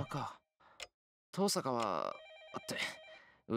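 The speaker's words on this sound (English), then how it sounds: "The phone is ringing far away." A telephone rings in the Fate/Stay Night game, heard as a repeating electronic trill between stretches of voiced game dialogue and ticking.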